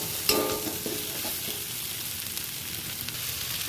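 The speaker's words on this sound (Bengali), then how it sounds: "আলু আর এঁচোড় একসাথে দিলাম কারণ মশলাটা খুব ভালো করে এঁচোড়ের মধ্যেও ঢুকে যাবে" Potato and green jackfruit fry together with spices and salt in a pan, a continuous close sizzle with a sharp stirring scrape near the start, and no one speaking.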